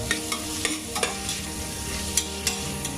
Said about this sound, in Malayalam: ജസ്റ്റ് ഒന്ന് വഴറ്റി കൊടുത്താൽ മതി